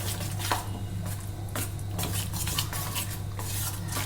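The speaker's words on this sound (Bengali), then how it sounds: "আবার ডিমটাকে সুন্দর করে ডালটার সঙ্গে মিশিয়ে নেব।" Egg being mixed into a paste of masoor lentils in a bowl, with continuous scraping and clinking of a utensil against the bowl in a quick, even rhythm, close and alone.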